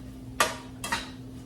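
Two quick metallic scrapes of a utensil stirring shrimp in a cooking pan over low heat, close and fairly quiet, about half a second apart with a steady hum underneath.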